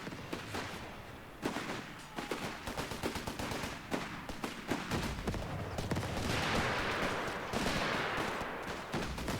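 Dense volleys of rifle and machine-gun fire in the Company of Heroes 3 real-time strategy game, Italy invasion, with sharp overlapping bursts crackling in an irregular rhythm, near and loud, with no talking.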